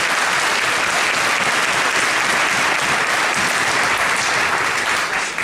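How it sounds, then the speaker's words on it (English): A school concert audience applauds new beginner musicians with dense, loud, continuous clapping that holds steady for several seconds before tapering slightly at the end. "Let's have a round of applause for these new musicians."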